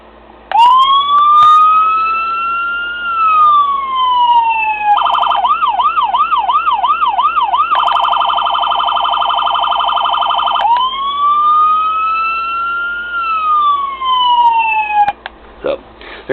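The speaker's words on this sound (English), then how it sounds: "and the same siren." A diecast Ford Interceptor Utility police model's toy siren wails in rising sweeps, switches to a rapid yelp, then returns to the long wail, loud and close, with no talking.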